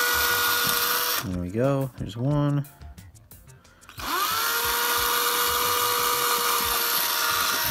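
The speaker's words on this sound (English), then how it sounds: "So we're just gonna drill through." A tiny drill bit whines steadily as it bores through a diecast Hot Wheels-style race car, running loud and close before and after a short pause in which someone speaks.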